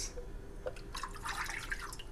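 Coconut water being poured into a buko pandan jelly salad mixture, a steady trickling and splashing of liquid with a few drip-like accents, fairly soft and close, with no talking.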